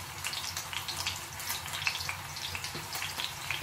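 A leg of lamb sizzles as it roasts, a soft steady crackle and hiss at low volume with no talking.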